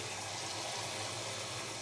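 Water flows steadily into a cup ahead of filling a Turkish coffee gezve, a continuous close splashing rush with no break.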